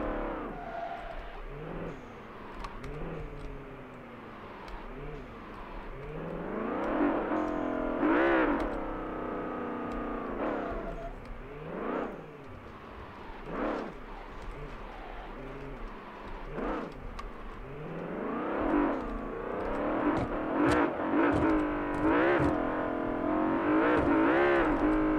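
A fast sports car in BeamNG.drive, its engine revving up and down in repeated surges and whines as it accelerates hard, loud and close with no voices over it.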